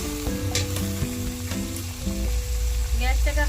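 Chopped tomato frying and softening in a pan for Uttar Pradesh–style dal makhani, a steady loud sizzle with stirring scrapes and background music tones throughout.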